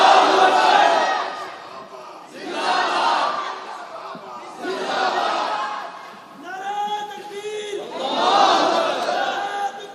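A large crowd at a religious gathering chants slogans in call-and-response, four loud rhythmic bursts of massed voices separated by short pauses, with a single leading voice between them.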